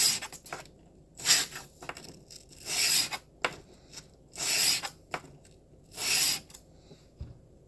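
A single bevel broadhead drawn across a sharpening surface in slow, even rasping strokes, about four to five long scrapes with short pauses between them, close and clear with no talking.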